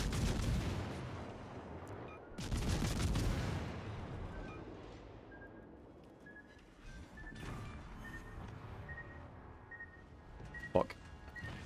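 Gunfire and heavy cannon blasts from a World of Tanks-style game featuring the Kleber, with booming bursts early on, a quieter rumbling stretch, then a sharp crack near the end.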